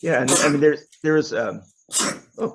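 A single sharp sneeze bursts out during a casual conversation, loud and close, with talking voices before and after it.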